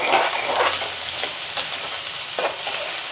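Sliced onions sizzle in hot oil for a Hyderabad-style egg korma as a spoon stirs them through, with steady frying hiss and a few scraping strokes close by and no talking.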